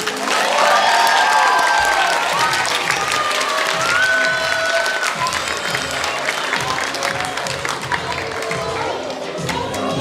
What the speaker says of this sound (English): Round of applause for our news crew.